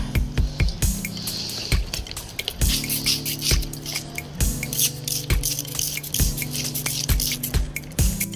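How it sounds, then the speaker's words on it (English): Repeated short wet spritzes from a spray bottle of water onto compost, roughly one per second, with soft squishing of damp material between them, close up. "Let that moisture get in there and spray it some more."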